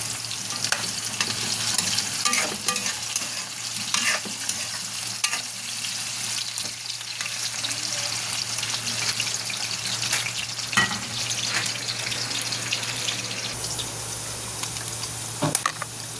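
Pork spareribs for kaldereta fry in a pan with a continuous loud sizzle and crackle, broken by occasional stirring scrapes and clatters, steady throughout with no voices.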